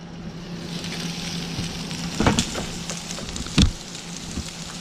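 Steady crackling sizzle of chicken wings cooking on a hot grill at a campsite, with a couple of louder pops and hisses standing out from the constant frying noise.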